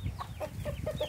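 Backyard chickens cluck in short, repeated calls close by, a busy run of clucks and squawks with no talking.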